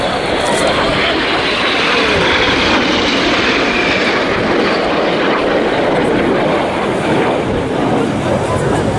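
Red Arrows jets fly overhead at the Eastbourne Airshow 2023, a loud, continuous broadband roar of jet engines that swells and rushes across the whole stretch, with no clear voices over it.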